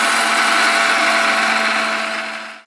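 A mixer grinder whirs steadily as it grinds ghee-roasted urad dal into powder, a loud, even motor drone with a high whine that runs alone for a few seconds before cutting off.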